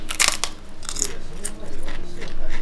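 Crunchy biting and chewing of an Indian meals plate, close and fairly loud, with repeated crisp crunches at an irregular rhythm and no talk over it.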